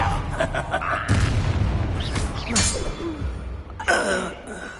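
Confringo blast spells in Hogwarts Legacy, a series of booming fiery bursts with crackling noise swells and rumbling low end. The effects arrive in uneven waves, loud and close, with no clear speech over them.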